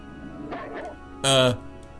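A dog in the video game Trails of Cold Steel lets out a single short, harmonic bark-like yelp, loud and close, after some quieter game sounds.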